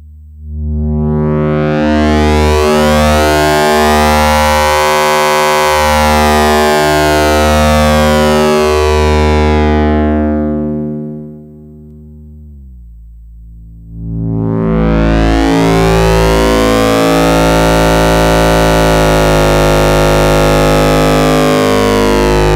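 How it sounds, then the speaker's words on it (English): A modular synthesizer wave-folding tone, from a Doepfer A100 VCO and wave folder, sweeps up and down in a long arc, buzzy and metallic with shifting overtones, dips briefly, then sweeps again, loud and alone. "create this very typical wave folding sound"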